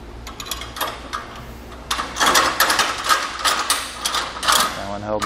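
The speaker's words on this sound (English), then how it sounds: "these are going to be tightened down with a 19 millimeter or a 3/4 inch wrench and socket" A ratchet wrench with a 19 mm socket clicks rapidly while tightening a nut on a two-tier kayak trailer, the close metallic ratcheting growing louder in steady runs.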